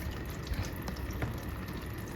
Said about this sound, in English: you can see that water will start dripping from the little air channel right here